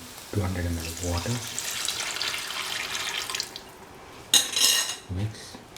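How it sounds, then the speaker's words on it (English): Water is poured into a cashew and paneer stew in a pan, a bright hissing rush of liquid heard close up, preceded by some clinking and followed by another short splash. "Pour in 200 ml of water."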